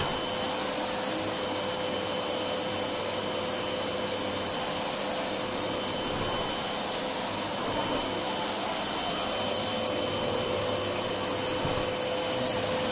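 Sebo C3 canister vacuum cleaner running steadily on a filthy rug after dry-powder cleaning, a continuous close, loud motor whine and airflow roar with brushing texture, no voices.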